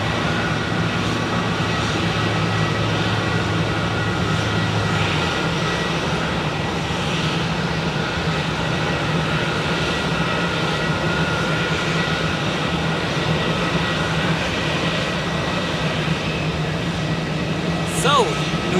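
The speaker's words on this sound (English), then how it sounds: "So, New York is now accelerating, so let's enjoy this first heavy departure today" A Swiss Airbus A330 heavy jet roars through its takeoff run at Zurich Airport, a loud, steady broadband engine rumble with a droning low tone that holds for the whole stretch.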